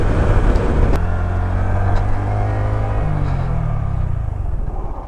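Brand-new 2017 Honda Grom MSX125 motorcycle engine revving offroad, a loud steady close-up drone with a pitch that climbs and then eases down, no talking.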